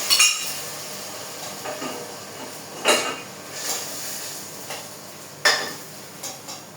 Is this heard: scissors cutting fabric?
no